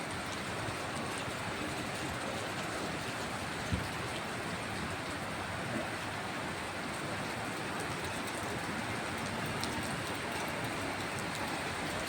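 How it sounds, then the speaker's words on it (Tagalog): Steady, dense heavy rain pours without a break on a flooded road in Kamias, Cubao, a constant broadband hiss with occasional faint knocks, no voices present. "lumakas ang ulan ulit"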